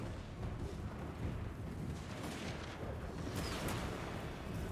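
Cannon fire booms across a Warhammer 2: Total War battlefield, a heavy rumbling barrage with scattered sharp bursts layered over constant battle noise.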